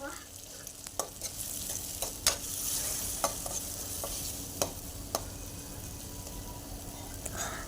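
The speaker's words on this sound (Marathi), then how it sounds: "टोमॅटोलाही छान असं मिक्स करून घेऊयात." Chopped tomato is stirred into golden frying onions for dal bhatti, a spatula scraping the pan in irregular, separate strokes over a steady close sizzle, fairly quiet with no voices.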